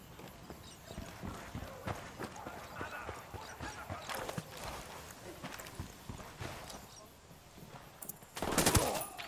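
Gunfire in the video game Ghost Recon Wildlands: repeated sharp shots crack in uneven bursts throughout, with a louder blast near the end, over steady game ambience.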